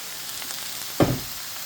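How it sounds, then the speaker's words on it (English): Soy sauce, about a tablespoon, splashes into cottage pie mince frying in a hot pan, giving one sharp sizzle burst that fades over a fraction of a second against a quiet background. "At this stage, this is where I add about a tablespoon of soy sauce"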